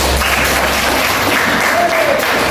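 Audience applause in a classroom-style religious lesson, a steady broadband clapping wash filling the whole moment at a loud, even level with no clear pauses.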